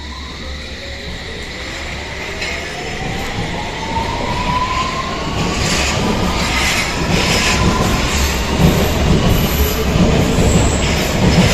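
The S train in a Ubisoft video game pulls away from a platform with a steady low rumble and rail noise, building slightly, while rising wheel squeal tones glide upward through the middle of the clip; no one speaks.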